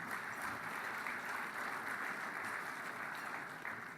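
A keynote audience applauds a Premier of Ontario event, giving a soft, distant, steady wash of clapping that holds at an even level for several seconds.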